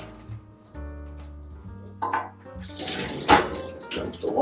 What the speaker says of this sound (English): Dump the water.